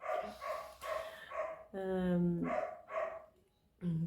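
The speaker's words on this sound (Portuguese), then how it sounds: "Ó, cachorro." A dog barks several times at night at home, close and fairly loud, in a rhythmic run of woofs mixed with someone talking, followed by one more bark after a short pause.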